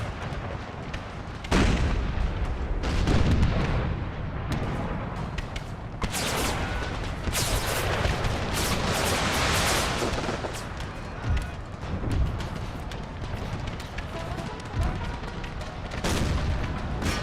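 Howitzer artillery fire from a Gettysburg battle video game, with repeated loud booms and cannon blasts landing in irregular bursts over a constant din of gunfire, sustained throughout.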